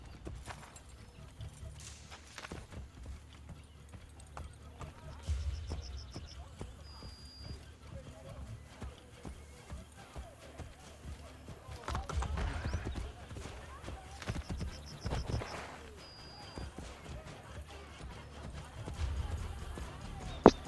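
Horse hooves in Assassin's Creed Brotherhood clip-clop at a steady pace for a long stretch under a voice, with faint whistling tones and rumbling noise behind.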